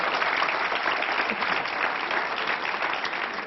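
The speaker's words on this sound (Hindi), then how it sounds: "जोरदार तालियां हो जाए भाई विभोर जी के लिए" Loud, dense applause from a crowd, sustained steadily throughout without pause.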